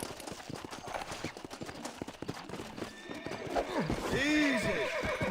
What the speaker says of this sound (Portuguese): Quer pra domar esse cavalo?